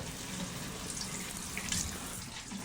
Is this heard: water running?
yes